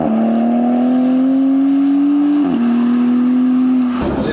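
A 340hp turbocharged Morgan Plus Six engine drones steadily under acceleration, its pitch climbing smoothly with a brief dip around a paddle upshift before pulling on again, loud and close throughout.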